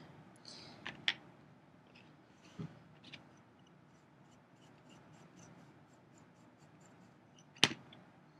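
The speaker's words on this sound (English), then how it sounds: "And then do my little signature, B with a big W. And then maybe I'll write 17." A tool scratching a signature into a soft clay tile, faint quiet scraping with a few sharp scratchy strokes near the start and one louder scrape near the end, close and sparse.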